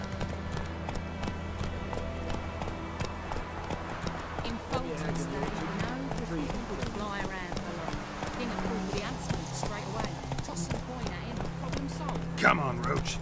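Horse galloping in The Witcher 3 video game, steady rhythmic hoofbeats close and continuous for the whole stretch, with a voice speaking briefly over them.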